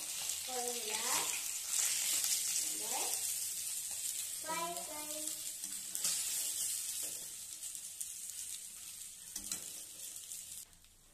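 Fish frying in oil in a pan, a steady bright sizzle throughout with occasional clinks, while voices, including what sounds like a child, talk intermittently over it.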